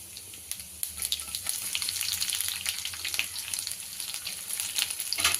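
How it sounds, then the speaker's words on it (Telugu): Garlic frying in hot oil after tempering seeds, a continuous crackling sizzle that swells after the first second and stays busy, with light stirring sounds and no voices. "ఎల్లిగడ్డ వేసుకుందాం"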